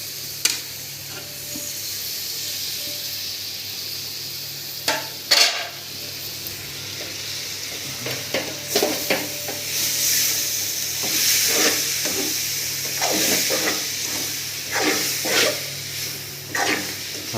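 Eggplant sizzles steadily in a pan with fenugreek leaves and coriander, broken by repeated scrapes and stirs of a spoon against the pan, with no talk.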